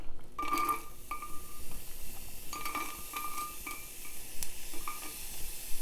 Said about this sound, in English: can you hear mustard seeds popping?